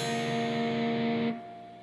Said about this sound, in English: Then play the bottom 3 strings open.